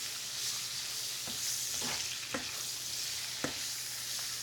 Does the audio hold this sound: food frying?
yes